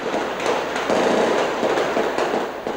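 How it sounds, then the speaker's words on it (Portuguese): A gun salute volley fired for a dead gang member in Rocinha, Rio de Janeiro, 1988, likely from a rifle: dense crackling bursts of shots run continuously, loud and close, with no talk. "Salva de tiros para homenagear um bandido morto."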